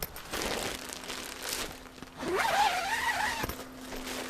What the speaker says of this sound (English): I'll go ahead and just zip up these windows.